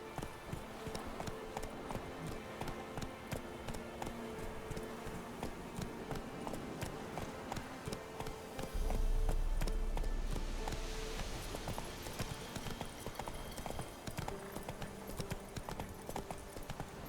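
Hooves of a horse in The Witcher 3: Hearts of Stone pound in a fast, steady galloping rhythm, with a low thud and a swell of wind near the middle, alone with no talk.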